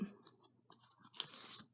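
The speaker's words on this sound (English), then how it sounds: "just use a pair of scissors just like that and trim most of it up" Scissors snip along the rough edge of lace, a handful of quiet, close crisp cuts in an uneven rhythm with brief pauses between them.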